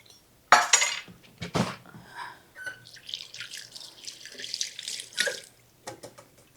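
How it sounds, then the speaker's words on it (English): Kitchen sink tap running while hands are washed during country fried steak preparation: a sudden gush of water, splashing and dripping in uneven bursts, with dishes faintly clinking nearby. "Let me put this over here in the sink and wash off my hands a minute."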